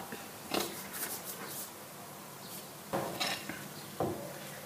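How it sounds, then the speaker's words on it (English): A spoon scrapes and knocks against a bowl while folding flatbread dough, a few sharp clinks and scrapes spaced out over quiet, faint background. "start folding over with your spoon from the bottom"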